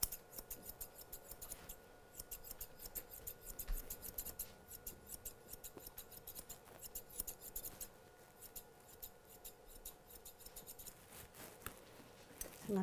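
Quick, bright clipping from curved grooming scissors runs almost nonstop through a miniature poodle's coat, close up with brief gaps, and a little rustling and handling noise underneath.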